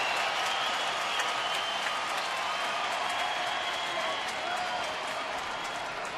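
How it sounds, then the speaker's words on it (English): Crowd at AT&T Park during a Giants baseball game against Cincinnati, late innings with the Giants trailing, keeps up a steady broad roar of cheering and clapping, heard at a distance as a dense wash throughout. "Crowd really getting into it now at AT&T Park."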